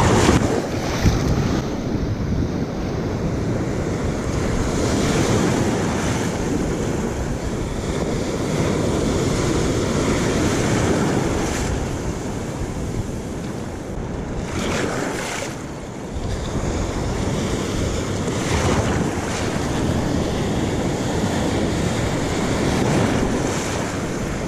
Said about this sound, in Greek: Βγάζει ώρες κάτι κύματα που τα τρώω ολόκληρα.